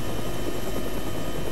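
A medium utility helicopter in the military simulator Arma 3, a loud continuous rotor thrum and engine whine, steady and close with no voices.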